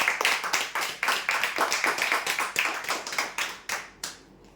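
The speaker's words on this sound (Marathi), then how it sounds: "जोरदार टाळ्या होऊ द्यासाठी" Clapping from an audience at a lucky-draw prize announcement, a brisk run of many hands with rhythmic pulses that thins out and fades over a few seconds.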